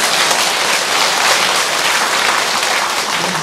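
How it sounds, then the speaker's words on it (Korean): A crowd at a Buddhist temple dharma gathering claps loudly and continuously for the officiating monk, a dense even wash of hands with no voices on top. "우리 집전을 해주신 스님에게도 박수 한번 쳐주시고."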